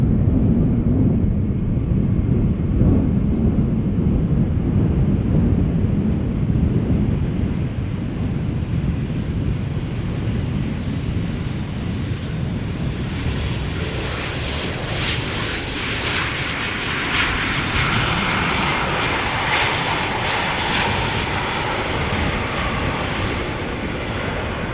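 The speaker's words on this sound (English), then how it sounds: "BA, flight 430 arriving from London Heathrow. A320" A British Airways Airbus A320 arriving from London Heathrow at Schiphol Airport passes with a loud, steady jet engine roar. The roar builds and brightens toward the end, with wind noise on the microphone throughout.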